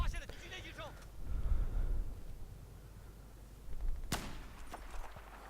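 Video game gunfire, with a sharp loud shot partway through and fainter bursts around it, mixed with talk and game noise.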